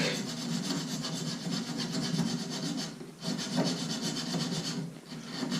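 A tool cuts a divot into a brass Moen Posi-Temp shower cartridge, giving a steady close-up rasping, filing scrape that runs continuously with brief pauses, loud and alone.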